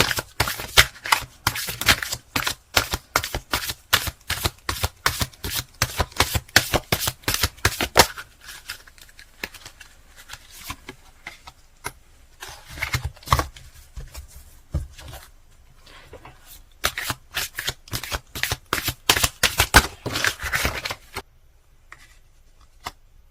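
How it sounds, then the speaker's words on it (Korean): Tarot cards are shuffled and drawn at close range, with dense runs of crisp riffling flicks and slaps, a quieter stretch of sparse taps in the middle, then another burst of shuffling before it fades. "한 장만 더 뽑아볼게요."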